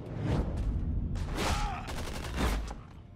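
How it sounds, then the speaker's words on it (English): Bursts of gunfire from a shootout in the video game Tales from the Borderlands, loud, dense and close, with a voice calling out partway through. "Jack, they're shooting at me."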